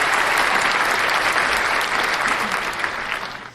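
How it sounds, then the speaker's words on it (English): A studio audience gives a short burst of dense clapping that stays strong and then tapers off near the end. "Round of applause for that."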